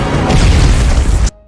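A grenade blows up in a film scene: one loud, dense boom that rumbles for just over a second and then cuts off sharply into near silence.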